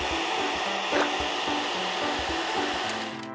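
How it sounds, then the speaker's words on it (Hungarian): A cartoon vacuum cleaner hums loudly and steadily while an ant and a dinosaur clean a messy house, its drone wavering slightly with short rubbing and bumping sounds on top. "és porszívózni"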